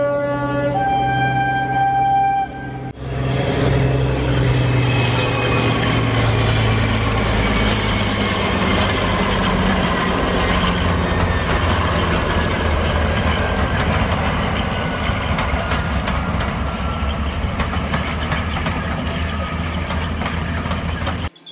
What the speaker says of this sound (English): I'll be showing you some shots of trains going past down there.